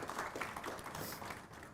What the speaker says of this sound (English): Please give a big round of applause for Ankit Jhamb.